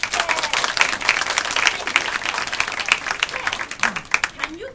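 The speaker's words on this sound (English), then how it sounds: "A big round of applause for Estelle." Indoor audience applause at a children's storytelling show, a steady burst of many hands clapping at moderate loudness with a voice briefly heard over it.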